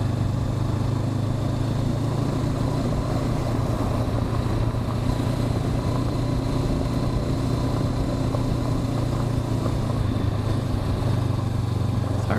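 A 2021 Honda CB500X motorcycle engine lugging at low revs in fourth gear, below 2,000 RPM, while riding on gravel. It gives a steady, continuous low drone mixed with wind noise, with no talking throughout.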